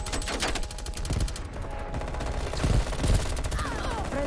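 Rapid automatic XM4 rifle fire in Call of Duty: Black Ops Cold War, a steady stream of sharp close shots with a heavier burst near the end, amid busy game noise.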